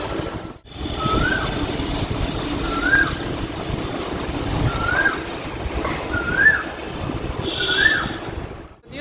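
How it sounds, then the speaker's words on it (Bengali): An Asian koel calls from a tree repeatedly in rising whistled notes, five times at regular intervals, carrying from a short distance over a low hum of background traffic. "সামনের গাছটায় কোকিল ডাকছে,"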